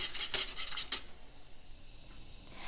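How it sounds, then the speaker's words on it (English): A whisk scrapes and rasps quickly around a crock pot, stirring broth with dissolving chicken soup, a close rhythmic scratching in short strokes that fades into quiet. "take a whisk and kind of whisk it so that you can dissolve that chicken soup"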